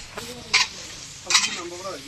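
Tomatoes sizzle steadily in a hot pan while a utensil stirs them during wedding-feast cooking, with brief scraping swishes close by.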